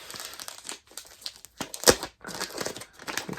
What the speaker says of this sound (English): Oh, cute Valentine's wrapping paper. Oh man, it's not rippable.